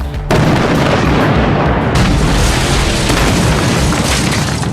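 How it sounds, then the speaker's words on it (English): A pyrotechnic explosion set off for a film shoot at a lake erupts as a loud, sustained boom that floods the whole clip with dense rumbling roar and crackle, surging again partway through. "this is the first filming with pyrotechnics and explosions that have been able to film here"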